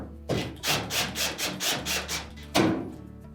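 Screws are driven into the bulkhead of a Whirlpool dryer being repaired, giving a close series of rhythmic rasping, rubbing turns followed by a sharper scrape near the end, with no talking.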